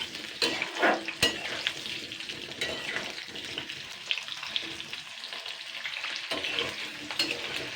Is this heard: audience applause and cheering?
no